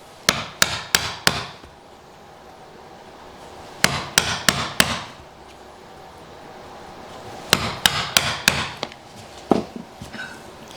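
A WoodRiver chisel struck with a mallet cuts into hardwood, sharp close knocks in quick bursts of four or five blows separated by short pauses, each strike crisp and ringing.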